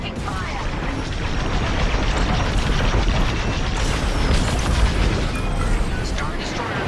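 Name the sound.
incoming weapons fire on starfighter in Star Wars: Squadrons video game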